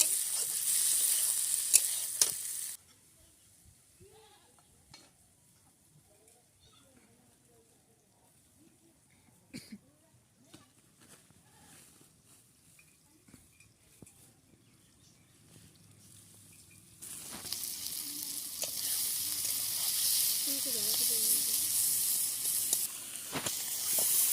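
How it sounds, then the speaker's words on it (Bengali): Cauliflower roast fries and is stirred in a pan with chili, ginger, garlic, cumin and cardamom pastes on a stove. Loud sizzling opens the clip, drops to near quiet with faint scraping, then the hiss returns strongly and keeps going. "সবগুলো দিয়ে দিয়েছি, এবার নাড়তে থাকতে হবে।"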